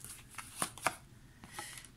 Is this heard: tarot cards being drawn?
yes